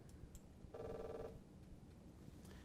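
A cell phone sounds a short electronic message alert, a single brief tonal chime partway through, faint against a quiet room background.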